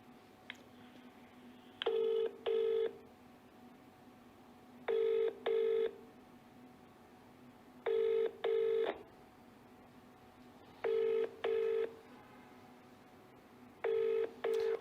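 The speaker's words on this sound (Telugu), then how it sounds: "జడ్సన్ గారికి ఒక్కసారి కాల్ చేద్దాం" A telephone call rings out after dialing: a faint click, then five evenly spaced double-burst ringback tones about three seconds apart over a steady low hum.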